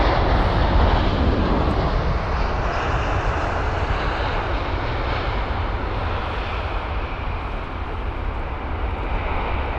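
Saudi Boeing 787 airliner at London Heathrow, a loud, steady broadband jet roar that holds close and continuous throughout, easing only slightly toward the end with no talk.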